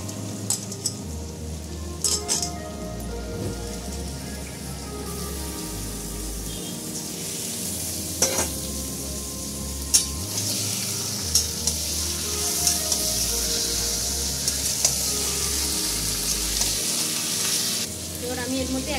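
Chicken pieces frying in a pan with chopped garlic and ginger-garlic paste, a steady sizzle with intermittent stirring scrapes and utensil clinks throughout.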